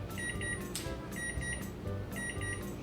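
A kitchen timer goes off while matzah bakes in the oven, giving quiet, repeated bursts of electronic beeping at a regular rhythm over faint room noise.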